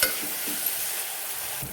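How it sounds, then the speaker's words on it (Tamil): Tomatoes sauté in a hot pan for tomato rice, giving a continuous close sizzle with a few soft scrapes of stirring and no talking. "இந்த சமயத்தில் தக்காளி போட்டு நல்லா வதக்குங்க"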